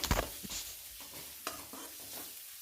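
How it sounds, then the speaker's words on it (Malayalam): Green chillies and garlic stirred in a frying pan for a Kerala-style chicken curry, a soft sizzle with a few spatula scrapes and light knocks against the pan, fairly quiet, with no one talking. "നമുക്ക് വീണ്ടും ഒന്ന് ഇളക്കി കൊടുക്കാം"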